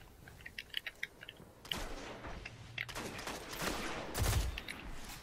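Shotgun blasts from Destiny's Iron Banner multiplayer, a few loud, broadband bursts spread through a busy stretch of game noise, with smaller clicks and impacts between them and no talk.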